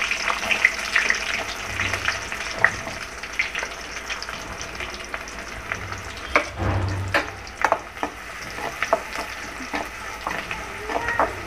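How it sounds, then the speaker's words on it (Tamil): Onions sauté and sizzle in a hot pan for a curry, a steady frying hiss broken by occasional stirring clicks, close and moderately loud. "வெங்காயம் வந்து ஒரு 2 செகண்ட் வதக்கிட்டு அதுக்கப்புறம் நம்ம வந்து பூண்டு சேர்த்துக்கலாம்"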